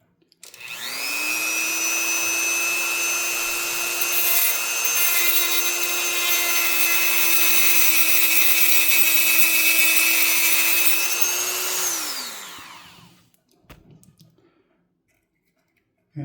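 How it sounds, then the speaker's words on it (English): A high-speed rotary tool cuts the plastic bumper off an SCX24 RC crawler with a close, loud, steady whine that holds for about twelve seconds before spinning down into quiet. "So just like that, chop the bumper off."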